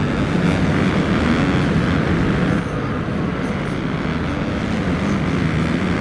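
An MX2 motocross motorcycle races at a French MXGP moto, its engine droning loud and steady under throttle, with a slight dip partway through as the rider eases then holds on.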